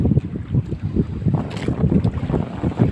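Strong northeast monsoon wind roars and buffets against the microphone at sea on a fishing boat, a constant heavy low rumble with gusting surges throughout.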